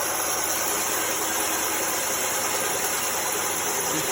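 A bandsaw runs steadily after its top wheel has been adjusted, giving a continuous loud whirring hum with a high whine and no pauses or talk.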